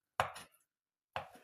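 A knife chops a boiled egg into pieces on a board, two crisp close strikes separated by a short pause, with no talking.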